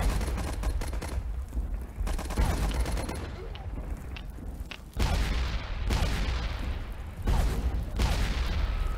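Rapid, sustained machine gun and rifle fire in the World War I flash game Warfare 1917, loud and continuous, with bursts restarting after brief gaps and no talk over it.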